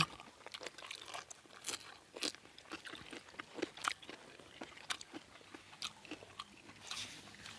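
Close, crunchy chewing of a Thai papaya salad with boiled paddy snails, irregular loud crackling bites and munching in quick bursts, with no talking.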